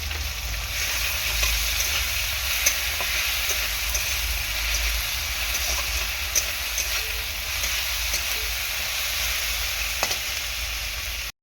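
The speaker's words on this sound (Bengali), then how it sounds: "এরপর আমি খুব সামান্য পরিমাণ আদা রসুনের পেস্ট দিয়ে দিলাম।" Ginger garlic paste frying for a rohu fish curry, a loud continuous sizzle with occasional stirring scrapes and small pops throughout.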